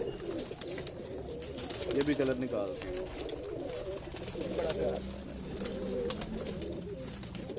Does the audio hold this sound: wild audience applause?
no